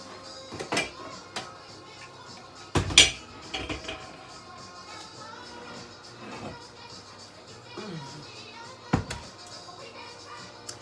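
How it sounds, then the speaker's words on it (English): A pot, an enamel-covered cast iron Dutch oven, is fetched and handled in a home kitchen, with scattered clanks and knocks of metal and cookware, some sharp, spread irregularly over room noise. "I'm just going to go and get a pot"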